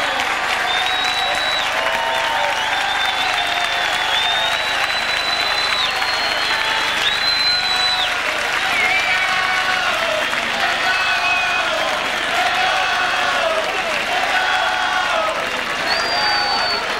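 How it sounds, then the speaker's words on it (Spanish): Loud, continuous audience applause fills a carnival evening show, a dense crowd clapping steadily throughout, with cheering voices and music-like tones running over it. "vamos a recibir con un fuerte aplauso a un chiquillo juvenil que ha venido con nosotros"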